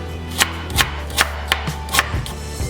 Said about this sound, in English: So we're just gonna dice these up real quick.